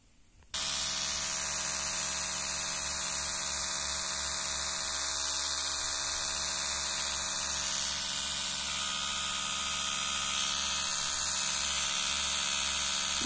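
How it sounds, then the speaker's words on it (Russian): Two electric toothbrushes, a Braun Oral-B Vitality D100 and an Optismile, buzz together after a brief quiet start, a steady loud whirring hum with constant vibration that runs alone without any talk for the rest of the clip. "Сейчас включу две щетки."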